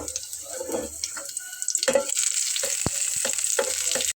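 Garlic fries in a pan with a steady hiss, while scattered clinks and scrapes of utensils and occasional splashing sounds break through. The sizzle stays fairly loud throughout, then cuts off abruptly at the end.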